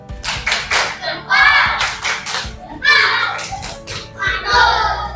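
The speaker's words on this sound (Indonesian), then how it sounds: "kita apresiasi dulu hasil pekerjaan kita semua dengan tepuk mantul" A primary class performs the 'tepuk mantul' clapping chant, with bursts of claps and thumps in a patterned rhythm while children's voices chant along, loud and close.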